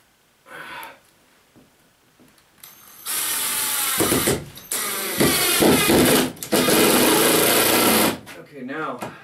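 A cordless drill with a screw bit drives screws into pegboard in a wood shop, giving several loud whirring, ratcheting bursts of a few seconds each with brief pauses between them.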